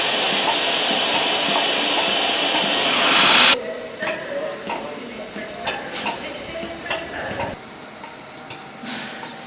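Train noise at Crewe railway station: a steady loud rumble gives way to quieter platform ambience with intermittent clanks and ticking mechanical sounds, no speech.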